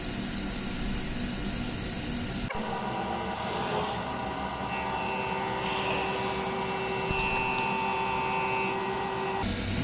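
A milling machine takes a facing cut with a high-speed steel tool, giving a steady whirring hum with faint tonal whine that kicks in abruptly and runs evenly before stopping near the end.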